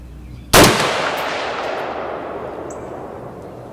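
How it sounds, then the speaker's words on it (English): A single rifle shot fired with old South African surplus 55 grain ammunition at a steel target, a sharp loud crack at the start followed by a long ringing decay of the struck plate, with no talking. "if we can make that plate ring a little bit more with this old South African surplus 55 grain ammo"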